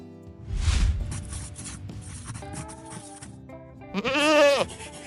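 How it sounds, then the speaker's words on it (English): A goat on a farm bleats once, loud and close, a wavering cry of about half a second near the end, after softer rustling and scraping sounds. "Goat."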